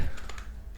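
Brief burst of computer keyboard typing while writing Python code: a few quick, close, soft key clicks in under a second, no voices.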